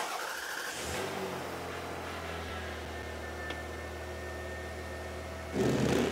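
A car engine cranks and catches, then settles into a steady idle hum before revving up sharply at the end.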